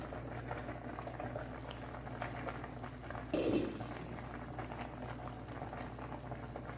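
Chicken simmering under a lid in a pot, a steady low bubbling and boiling hiss that runs throughout at moderate level, with a brief louder gurgle partway through.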